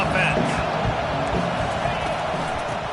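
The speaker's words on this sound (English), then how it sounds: "This crowd trying to make life miserable for this offense." A loud football stadium crowd roars steadily during a game, a dense, continuous wash of cheering and shouting throughout.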